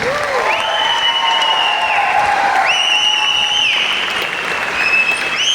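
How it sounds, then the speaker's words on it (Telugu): A crowd gives a loud, continuous round of applause for their mentor at a gathering, the broad clapping wash running throughout beneath prominent sliding musical tones. "ఒక గ్రేట్ రౌండ్ ఆఫ్ అప్లాజ్ అండి."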